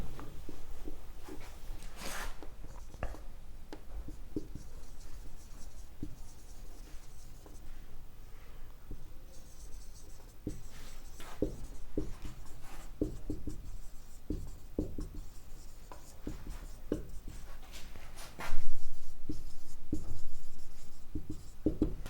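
Marker or chalk writing on a board during a circle geometry math lesson, heard as continuous scratchy strokes with short taps and pauses, close and clear with no talking, ending in a slightly louder burst.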